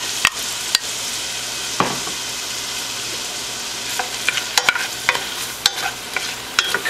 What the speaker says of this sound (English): we'll stir the onions and mushrooms and spices in there once it melts